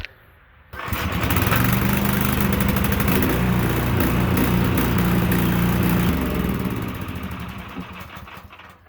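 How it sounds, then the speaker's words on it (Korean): A small engine driving an irrigation groundwater pump on rural farmland cranks and catches, then runs loud and close with a steady rough chugging roar that eases off slightly toward the end. "자 한번 시동 켜 보겠습니다"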